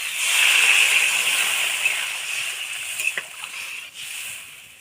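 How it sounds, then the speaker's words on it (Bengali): Water poured into a pan of sautéed potato curry for koi fish, a loud hissing rush of liquid hitting hot oil that slowly fades into bubbling. "ভালো করে কষানো হয়ে গেছে, জল দিয়ে দেবো।"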